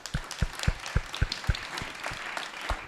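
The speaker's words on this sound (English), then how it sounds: "Let's give a big round of applause to our panelists." A small audience at a panel discussion on sustainable development and housing growth claps for the panelists, with a few distinct, close, rhythmic hand claps standing out over softer background clapping.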